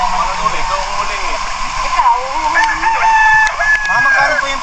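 A rooster, a valuable gamecock, crows amid a busy outdoor setting, its drawn-out call rising over steady background noise while people talk nearby.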